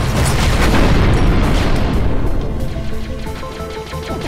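A tank fires in the video game Neon Tanks, setting off a loud, heavy boom that rumbles and fades over several seconds, with crackling debris tails and no voice on top.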